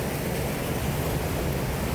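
Water pours steadily through a river spillway beside a fish ladder, a loud, unbroken broadband rush with no pauses and no voices.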